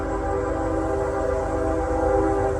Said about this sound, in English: I'm gonna pause for a bit while the train goes.